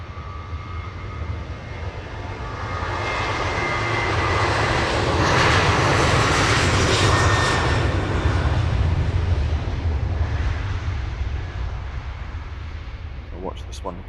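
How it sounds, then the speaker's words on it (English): An airliner takes off from London Luton Airport, its jet engine roar swelling to a loud peak mid-way and then slowly fading, with people talking under the noise. "Watch this one get wheels up and then we'll swing around for that departure."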